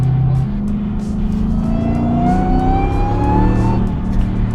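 A Demon Hemi V8 in a Jeep Gladiator rumbles loudly off throttle while coasting, a deep burbling drone with a slowly rising whine running beneath it, steady and close with no talking.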